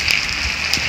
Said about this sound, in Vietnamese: hôm nay là mưa gió bão bùng luôn